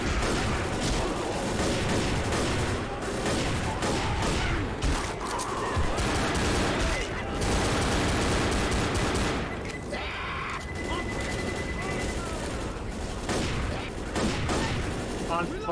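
Left 4 Dead gunfire crackles almost nonstop amid a dense, chaotic game mix of shots, mechanical noise and chatter, loud and continuous throughout.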